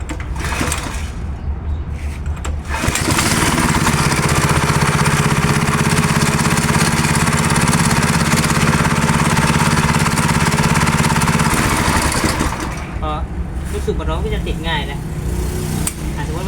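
A small gasoline engine with a rebuilt recoil starter is pull-started, then runs loudly and steadily for about nine seconds before dropping away, with faint voices nearby.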